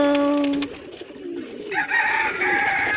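Pigeons coo in soft, throaty bursts close by, mixed with higher chirps and calls from newly hatched chicks. The sounds come in uneven phrases over a few seconds.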